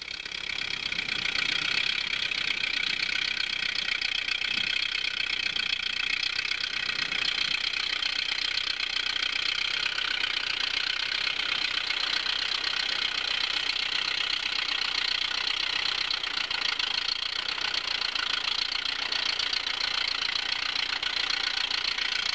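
An aircraft engine with a Posa carburetor and dual electronic ignition idles steadily during carburetor tuning, a continuous, even droning hum with a bright whining tone that holds unchanged throughout.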